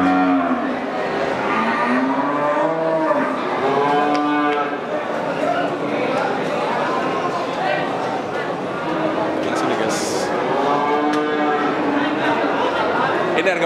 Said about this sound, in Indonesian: Jenisnya apa nih sapi ini?